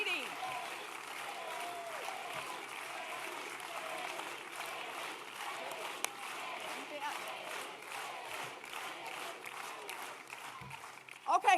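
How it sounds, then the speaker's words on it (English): A crowd at a political speech in Philadelphia applauds and cheers steadily, a sustained roar of clapping with distant voices mixed in, fairly even and moderately loud. "I like this cheering because it makes the next part easier."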